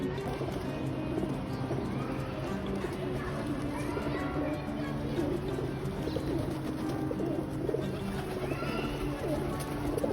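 Pigeons or doves fly in and land to be fed at an evening feeding, with soft cooing and fluttering wings over a busy outdoor background while someone talks.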